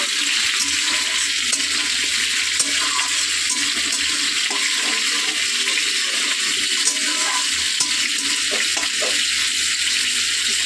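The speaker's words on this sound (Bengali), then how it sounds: "আর এখানে পেঁয়াজটাও ভাজা হোক।" Onion frying in a pan beside potatoes, a loud, constant close-up hiss and crackle of hot oil that stays even throughout, with no talking.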